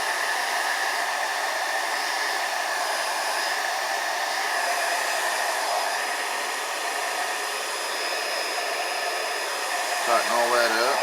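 A heat gun blows a steady, loud, unbroken hiss while shrinking wrinkles out of the covering on a Kadet LT 40 trainer model airplane, continuous for the whole stretch with a faint flutter near the end and no talk.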